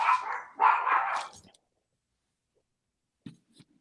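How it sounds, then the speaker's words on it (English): Several dogs bark and yip in a quick loud burst lasting about a second and a half, then fall silent, followed by a couple of faint short noises. "my dogs want to murder someone"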